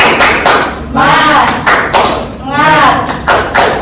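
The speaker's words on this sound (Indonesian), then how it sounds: "kita ice breakingnya tepuk semangat" Classroom group doing a rhythmic 'tepuk semangat' clapping ice breaker: bursts of patterned claps in a steady beat, mixed with children's voices chanting along, loud and close.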